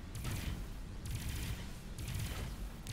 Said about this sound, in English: Good hit with cannon.